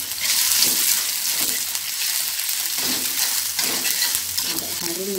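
Garlic and shrimp paste (terasi) sautéing in a pan for a village-style stir-fried cassava leaf dish: a steady, close sizzle with scraping stir strokes throughout and no talking.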